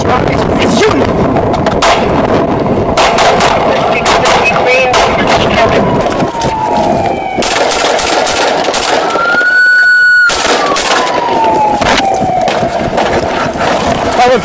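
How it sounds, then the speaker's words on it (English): Gunshots fired in a Walmart parking lot, a run of sharp, loud reports spread across the scene amid constant outdoor noise, with a siren-like tone rising briefly and a voice shouting in the background. "Probably 33 shots fired,"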